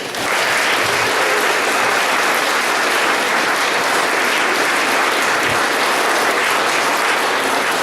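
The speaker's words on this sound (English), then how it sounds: "Let's give a round of applause." Loud, sustained applause from a large crowd at an amateur art exhibition awards ceremony, steady clapping that fills the whole stretch without letting up.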